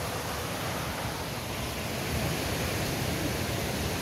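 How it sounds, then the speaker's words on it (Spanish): The El Milagro river flows in Mineral del Chico, Hidalgo, Mexico, as a steady, loud rushing wash of water with no pauses or voices. "el río El Milagro en el mineral del Chico."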